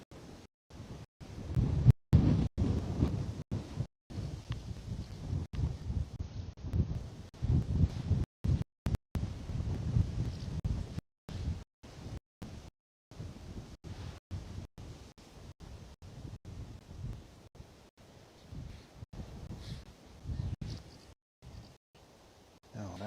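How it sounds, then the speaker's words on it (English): Wind gusts at Bristol Airport, a steady broadband rush buffeting the microphone throughout, louder in the first half, with repeated brief audio dropouts. "It's probably just an effect of the wind today."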